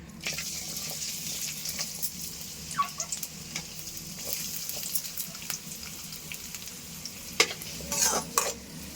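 Onions frying in oil for chicken gravy, a continuous close sizzle with intermittent spatula stirs and a few sharper clinks near the end, no one speaking.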